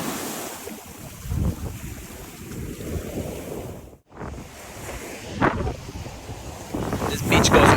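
Big ocean waves break and wash onto a long beach at a Cancun resort, with a steady roar and heavy wind buffeting the microphone throughout and surges swelling near the end.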